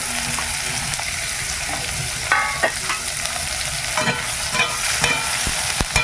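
Potatoes and onions hit hot oil in a wok previously used for frying fish, producing a loud, dense sizzle with clattering stirs and scrapes growing busier in the second half.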